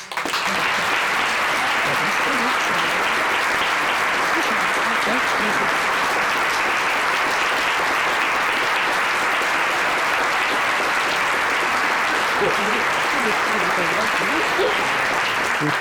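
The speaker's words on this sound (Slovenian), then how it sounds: "Dajmo mu en aplavz" A concert audience in a cellar hall applauds the organizer Jure at an Oktet Oremus performance. Thick, sustained applause from a large crowd stays loud and unbroken for the whole stretch.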